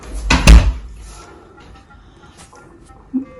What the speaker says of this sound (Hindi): मैं दरवाजा बंद कर देती हूँ।